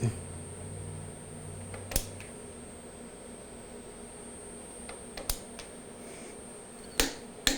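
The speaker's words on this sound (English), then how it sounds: "This is a click stop wrench." A click-stop torque wrench is tightened to 75 foot-pounds on a split vise, giving a few sharp metallic clicks spaced about two to five seconds apart over a steady mechanical hum.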